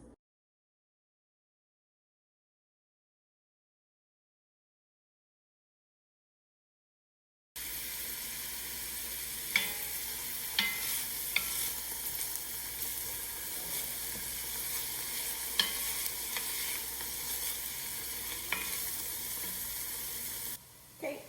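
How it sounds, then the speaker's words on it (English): Garlic, onions and ginger sizzle in olive oil on a stovetop, with a steady close hiss and occasional sharp crackles and pops. Silence comes before it starts. "We're gonna pop in our garlic, onions, and ginger and soften that up"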